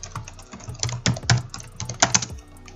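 Typing on a computer keyboard, a quick irregular run of close, crisp keystrokes of varying loudness, heard alone without talk.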